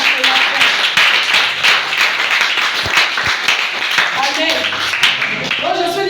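A church congregation applauds during worship, steady clapping and cheering filling the space over about six seconds, with voices mixed in and occasional sharper claps.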